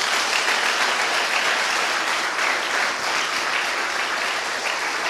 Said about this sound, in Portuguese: Você pode aplaudir a palavra de Deus?